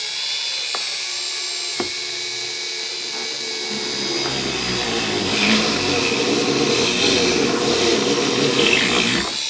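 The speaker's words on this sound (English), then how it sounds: "I'm gonna go ahead and drill the hole on this side" A high-pitched Dremel rotary tool whines steadily while drilling a hole in a box, its pitch and load shifting as it bites into material, with a few sharp clicks early on.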